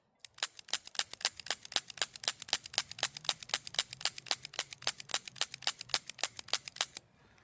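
Rapid string of sharp .40 S&W gunshots, 165-grain Blazer rounds fired from a revolver, about thirty evenly spaced cracks over seven seconds, loud and close with no talking.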